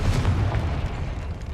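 Confringo blasting spell going off in Hogwarts Legacy, a loud, deep rumbling boom that rolls on for over a second with a dense low-end roar and no talk over it.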